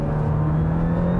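A 2021 Audi A6 Allroad 3.0T mild-hybrid wagon with quattro all-wheel drive pulls under acceleration, a short, steady, loud engine drone rising slightly in pitch, heard from inside the car.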